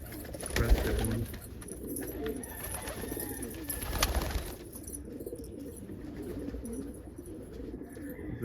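Pigeons in a loft, including a young almond and a crested bird, cooing and calling near and steadily over a low murmur, with a louder burst around the first second and another near four seconds.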